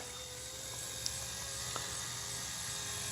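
Small RC Era Bell 206 C138 ready-to-fly model helicopter in flight, a thin, steady high-pitched rotor and motor whine heard at a distance outdoors, fairly faint with a couple of brief ticks.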